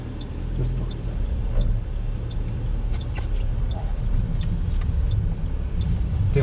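A car drives over snow, its engine rumbling low and steady under crunching, squeaking sounds from the tires, all loud and close with no talk.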